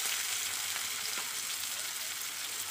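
Onions with tomato and ginger garlic paste fry in a pan for a mutton curry, giving a steady, fairly loud sizzle throughout with no speech.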